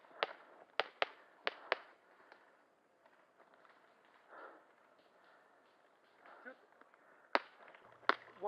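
Airsoft guns shooting outdoors at an airsoft field in Colorado, sharp faint snapping shots in a quick burst of four early on, then a few isolated cracks later, with distant voices and open-air quiet between.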